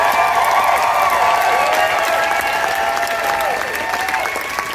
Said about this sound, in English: A huge round of applause for our friend